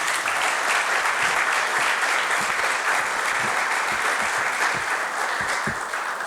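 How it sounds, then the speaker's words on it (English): An audience applauds steadily at the opening session of the Upstairs Lounge Fire 50th anniversary commemoration, a full, sustained wash of clapping with no break and no talk. "Can we have a round of applause for Clayton, please?"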